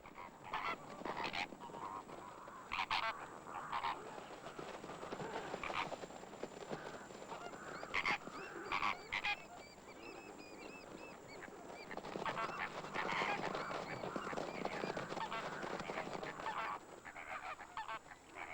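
Egyptian geese honk and call in a noisy flurry as they take off, with bursts of flapping and commotion rising and falling, fairly distant.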